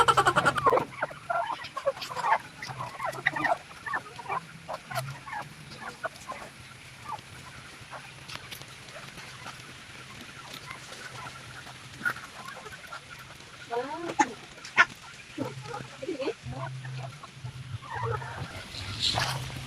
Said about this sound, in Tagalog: Kaya pala panay ang sunod ng pato at manok sa yunak.